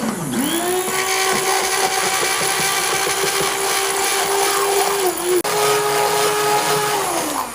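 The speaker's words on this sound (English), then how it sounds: "take my hand blender here. I'm just gonna blend the soup up" Loud, steady motor whine of a hand blender running continuously through garlic soup, with a brief dip in pitch and a short cut near the end.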